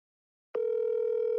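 A telephone gives a loud, steady electronic tone that starts abruptly after a moment of silence and holds unbroken to the end, with no voices over it.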